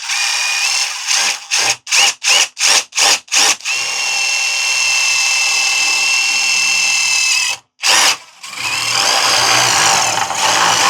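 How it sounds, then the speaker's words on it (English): A power drill with a large bit whines in several short bursts, then runs steadily for a few seconds, stops briefly, and starts again close by, drilling a hole in a corner inside an RV. "I'm just going to drill a hole in this corner."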